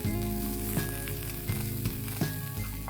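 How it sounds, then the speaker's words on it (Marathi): Grated coconut and browned onion roasting together in a hot pan for a Khandeshi bhaji amti, giving a steady close sizzle with soft stirring scrapes and brief louder bursts. "यामध्ये अर्धा वाटी खोबरं आहे, किसून घेतलंय, तेही आपण छान भाजून घेऊया"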